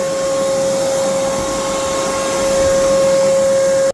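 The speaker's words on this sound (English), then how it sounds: "So I'm gonna turn it on first." A RIDGID 6 gallon NXT wet/dry vacuum runs steadily and loudly up close, a constant motor whine with a strong airy roar that holds for about four seconds and then cuts off abruptly.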